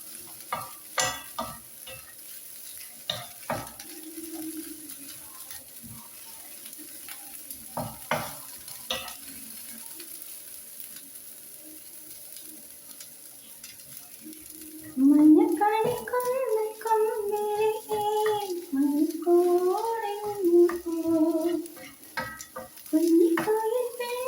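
Dried prawns roast in a pan with a soft sizzle, broken by sharp scrapes and taps of a stirring spoon, then a louder, fuller frying hiss takes over in the second half, heard close with no talk.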